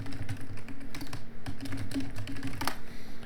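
A few seconds of quick keystrokes on a computer keyboard, close-miked, with clustered clicks and a louder tap near the end over a steady low hum.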